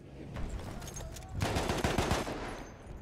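Gunfire from a weapon in a team shooter video game, a rapid burst of loud shots in the second half after a quieter stretch, close and sharp.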